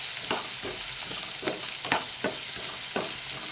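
Onions frying with peanuts in a pan for a rice and peanut dish crackle in a soft, continuous sizzle, while regular scraping strokes of a spoon stirring them sound every half second or so, fairly quiet and with no talking.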